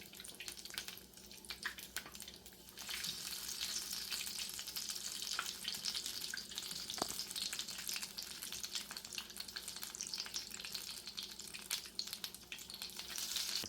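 Sesame balls frying in a single layer in a pan of hot oil give a steady, dense crackling sizzle throughout, fairly close and continuous with no talking.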